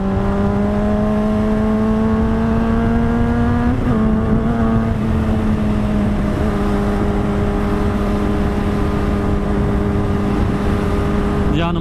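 A Honda CBR600RR sport motorcycle engine revs steadily in a tunnel with a droning harmonic tone, pitch dipping and rising around the midpoint, loud and echoing.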